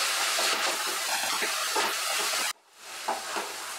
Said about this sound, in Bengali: আমি জল দিয়ে মশলাটাকে এবার কষিয়ে নেব যতক্ষণ না মশলা থেকে তেল বের হচ্ছে